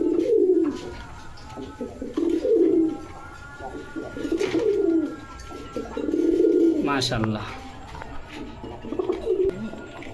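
Red Indian Bombay pigeons at a pigeon farm coo in repeated low rolling phrases, close and fairly loud, while someone speaks briefly between them.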